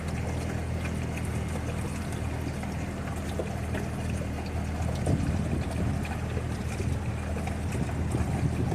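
A steady engine hum with rushing water and wind noise from a motorboat moving across the water near Jacksonville, Florida, continuous and moderately loud with no talking.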